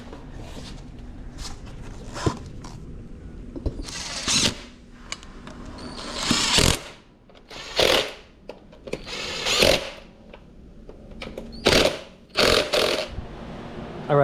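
Tools at work while mounting the rear tire on a Yamaha Blaster, with repeated short bursts of a power tool whirring and buzzing close by, separated by quieter pauses and light clinks.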